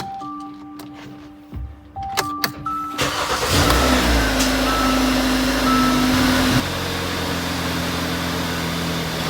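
A salvage car's engine cold-starts: a few dashboard chimes and clicks, then the starter cranks and the engine catches with a rising rev, settling into a steady, fairly loud idle.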